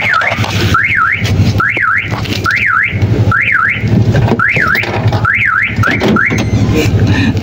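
A car alarm triggered by its shock sensor wails loud and close in a repeating rising-and-falling siren, about eight sweeping cycles over a steady low hum, with no voices.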